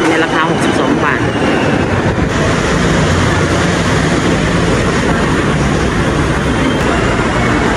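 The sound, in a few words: skytrain at Samrong station, Bangkok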